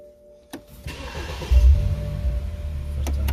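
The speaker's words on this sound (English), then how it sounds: "I'm gonna start the vehicle." A 2015 BMW X1 starts up inside the car: a couple of clicks, a brief starter crank, then the engine catches with a low rumble and settles into a steady idle.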